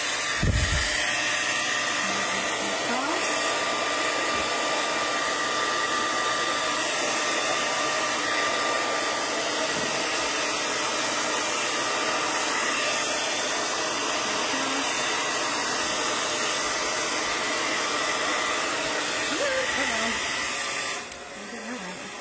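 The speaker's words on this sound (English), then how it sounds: "I'm going to take my hair dryer" A hair dryer blows steadily at close range with a loud, constant whirring roar, dropping in level briefly near the end.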